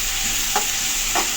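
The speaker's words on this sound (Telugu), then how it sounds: "అన్నీ వేసుకున్నా కదా, కలుపుకుంటున్నా." A spoon scrapes and stirs ingredients frying in a pot on a gas stove for pappucharu, two distinct stirring strokes over a steady sizzle, close and alone with no talk.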